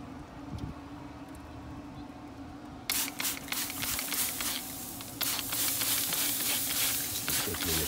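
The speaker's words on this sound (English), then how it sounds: "Quick little spritz." Ribs on a Pit Boss pellet smoker grill get spritzed with a spray bottle, producing a run of short hissing spray bursts over a low background hum, close by.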